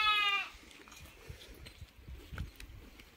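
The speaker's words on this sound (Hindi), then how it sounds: "सीप के बेबी बहुत ही क्यूट लगते हैं ना, बकरी के बच्चे से भी बहुत ज़्यादा क्यूट रहते हैं।" A single bleat from a sheep or lamb on a village farm, close and clear for about half a second, followed by quiet rustling and faint farmyard movement.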